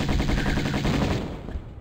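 Rapid machine gun fire in Tomb Raider 1 Remastered, a loud, close burst of evenly spaced shots that rattles for over a second before trailing off.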